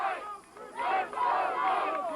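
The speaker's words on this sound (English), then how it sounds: "And so the crowd, who's been really into this game all night long," Spectators at a boys CIF soccer game cheer and shout as a crowd, loud and steady, rising in a couple of excited swells.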